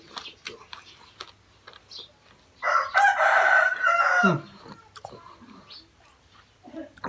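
A rooster crows once at a house in the early afternoon: a loud, strained call of about a second and a half that stands out from quiet surroundings with faint, sparse noises before and after.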